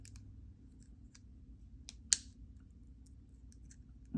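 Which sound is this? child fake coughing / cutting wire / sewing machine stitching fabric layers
cutting wire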